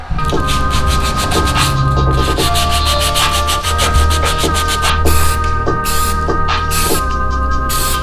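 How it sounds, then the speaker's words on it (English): Rhythmic back-and-forth sanding strokes on a Rocket Bunny rear wing for a Mk6 Golf R rasp loudly and close up, repeating steadily throughout with a bright scratchy texture. "Just gonna get all the adhesive off, and then I'll start sanding it down"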